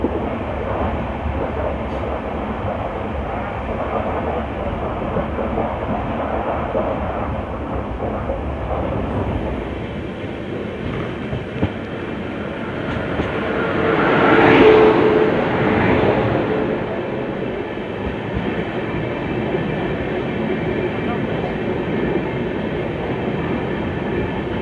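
The Samleswari Express runs through the Eastern Ghats with a loud, continuous rumble of carriages on rails and a rising, passing swell midway.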